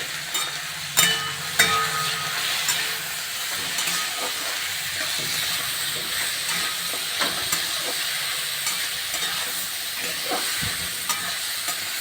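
Mixed vegetables, including pumpkin stalks, stirred in a frying pan with salt for a simple vegetarian mix-veg dish: continuous hissing sizzle with scattered scrapes and clacks of the spatula, close and steady, with no talking.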